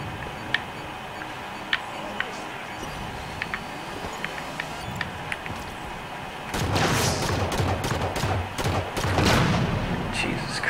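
Enemy gunfire in the video game Halo 5, heard first as sparse, faint isolated shots, then bursting into a dense, loud sustained fusillade of rapid fire and booms over the last few seconds.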